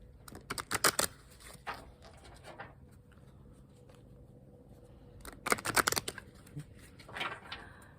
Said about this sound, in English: Okay, I'm just gonna give a shuffle.